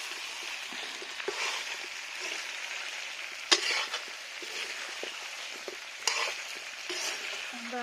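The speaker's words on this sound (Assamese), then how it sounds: "এয়া চাওক একদম ধুনীয়াকৈ তেল ওলাই গ'ল, আৰু মাংসখিনি অলমষ্ট ফ্ৰাই কৰা হৈ গ'ল।" Meat frying in hot oil with potatoes, cabbage and carrots over an open fire, a steady close sizzle with stirring scrapes and occasional sharp clatters of a utensil against the pan.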